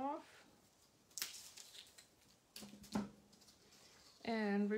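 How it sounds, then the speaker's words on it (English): Scissors snip through ribbon for a mixed media craft plaque, a brief crisp cut heard between stretches of speech. "I've got some ribbon here. Let me see if I can't cut that off."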